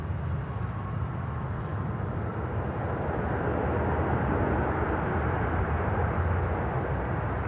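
A Copa airliner landing on runway 9 at Miami, a steady broad engine roar held throughout with no break, no voices.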